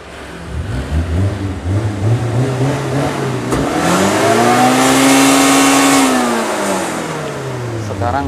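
The engine of a Suzuki Zebra Espass, just repaired for hesitation and stalling, idles and then revs up into a rising roar that holds and eases back down, close and loud, with a voice briefly audible.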